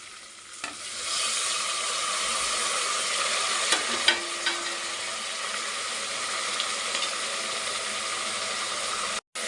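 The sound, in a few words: tomatoes and mint frying in a pan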